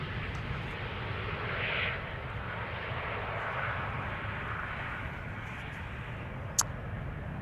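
A KLM airliner arriving at Amsterdam Schiphol Airport, its engine roar a steady, moderately distant rumble that swells briefly and holds, with no talk over it.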